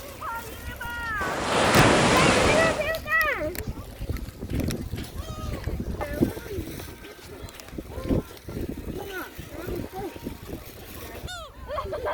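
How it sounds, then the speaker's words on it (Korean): Sea waves washing onto the beach at Eulwangni, a broad rushing surge early on, then a steady low wash of surf with voices and other sounds mixed over it. "드디어 바닷가에 도착했습니다!"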